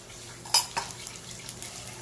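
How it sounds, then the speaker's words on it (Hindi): Cumin seeds dropped into hot oil in a pan while making navratan korma: a sharp metallic clink of a spoon, then a soft, steady sizzle with faint small ticks, close and fairly quiet, with no talk. "तेल में मैं 1 टीस्पून जीरा ऐड करूंगी"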